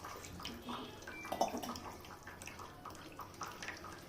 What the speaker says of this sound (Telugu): ఇంకా 2 చెంబుల నీళ్ళు పోసుకోవాలి